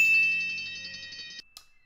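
A cartoon bell ding from a love heart in a Tom and Jerry episode rings out as a bright, sustained metallic tone that fades slowly, cuts off, and is followed by one brief, faint clink.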